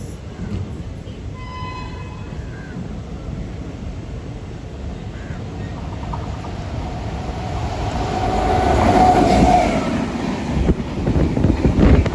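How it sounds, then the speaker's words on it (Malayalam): A Thiruvananthapuram–Shalimar Express passenger train rumbles steadily past, its low mechanical roar swelling louder toward the end as it draws in close at Kazhakkoottam railway station. "കഴക്കൂട്ടം റെയിൽവേ സ്റ്റേഷനിലേക്ക് ഇതാ നമ്മുടെ ട്രെയിൻ എത്തിക്കൊണ്ടിരിക്കുകയാണ്."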